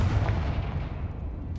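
A heavy, booming Confringo fire-spell explosion in Hogwarts Legacy, loud and low-pitched at the start and then rumbling away into a fading tail.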